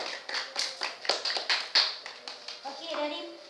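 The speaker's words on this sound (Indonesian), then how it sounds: "Tepuk tangan semuanya untuk Dira." Scattered hand claps in a classroom ring out in uneven bursts, with children's voices mixed among them before the clapping thins out.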